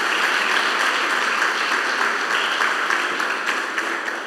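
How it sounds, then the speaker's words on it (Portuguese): A church congregation applauding during a worship service, dense continuous clapping that holds at a steady loud level throughout and eases only slightly at the end. "Você pode aplaudir o Senhor mais uma vez"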